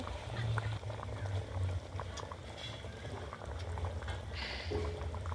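Meat curry gravy bubbles slowly in a pot, a soft, quiet stream of gentle bursting and popping that carries on without pause, with no talk over it.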